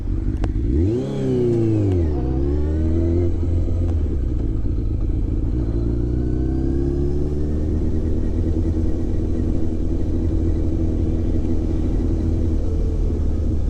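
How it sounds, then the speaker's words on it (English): A heavy tractor engine rumbles close by, its pitch swooping up and down as it revs and passes, then settling into a steady low drone, in the Comeragh Mountains. "Nice tractor."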